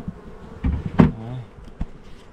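Honeybees in an opened hive give a low buzzing hum, broken by a few sharp knocks and handling clatters from the lid and frames at close range.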